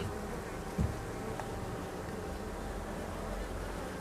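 Honey bees of a small colony buzzing steadily around a hive outdoors, a continuous low drone with a soft thump near the start and light wind noise.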